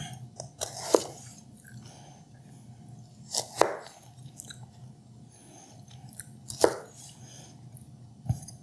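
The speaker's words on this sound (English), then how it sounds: "I don't know why I want to cut them this way. Sort of like they're julienne. A julienne of baby carrot." A knife chops baby carrots into julienne strips on a board, landing as a few sharp, separate cuts with gaps between them against quiet kitchen background noise.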